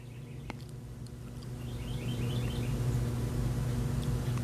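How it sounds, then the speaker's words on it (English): Birds outside an open door chirp in faint, quick little runs over a steady low hum of background noise, distant and soft, with no one talking. "The birds sound lovely."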